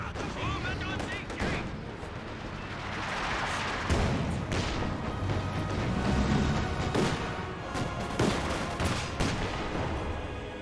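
A six-pounder anti-tank gun fires in a Company of Heroes 2 battle, its sharp reports cracking amid dense, continuous gunfire and explosions. The din stays loud and busy throughout.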